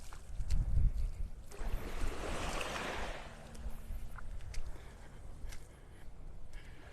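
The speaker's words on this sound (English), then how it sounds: "Breezy up here." Breezy beach wind at Delnor-Wiggins in North Naples, Florida, buffets the microphone in gusty rushes over a soft wash of surf, with no talking.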